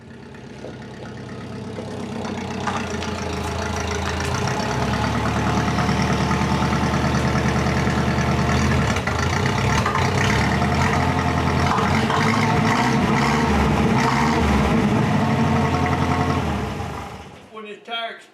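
An old Jeep that has sat unused for a long time starts up, its engine rising into a steady, loud, rumbling idle that holds for a long stretch before cutting off.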